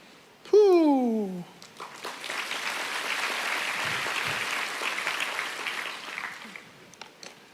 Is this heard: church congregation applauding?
yes